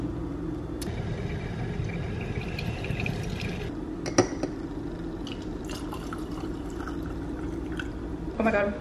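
Coffee brews and pours into a mug in an apartment kitchen, with soft dripping and liquid trickling under a low background rumble, ending in a brief louder pour.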